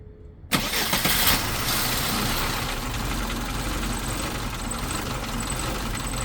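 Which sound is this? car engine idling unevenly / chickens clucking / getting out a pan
car engine idling unevenly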